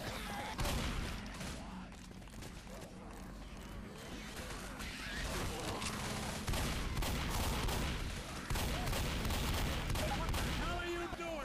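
Continuous heavy gunfire from the video game Left 4 Dead, dense overlapping shots and crashes filling the whole stretch with no pauses.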